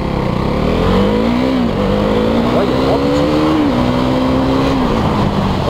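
A KTM 390 Duke motorcycle engine accelerates hard, its rising whine climbing in steps through several gear changes, loud and close with strong wind noise throughout.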